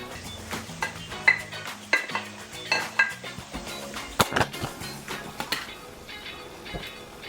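Garlic and mushrooms stirred in a metal pan for beef stroganoff, a utensil scraping and clinking repeatedly against the pan over a soft sizzle, with louder knocks midway.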